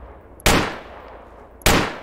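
Two sharp, loud blasts of grenades thrown behind a rock in the Project Reality military shooter, each a sudden crack with a fading rumbling tail, spaced a little over a second apart.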